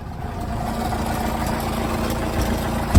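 A heavily modified Fiat Multipla fitted with a 453 hp engine idles nearby, giving a steady, loud low rumble that stays constant throughout, with a short thump at the very end.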